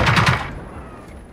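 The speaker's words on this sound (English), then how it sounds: "Something is firing" Rapid gunfire crackles in the shooter Generation Zero, a quick burst of three or four sharp shots up front, then a fading echoing tail. Near and loud, with no talk over it.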